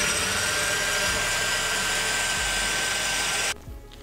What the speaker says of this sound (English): outline the blade profile on this small curve here just by using quite a large sanding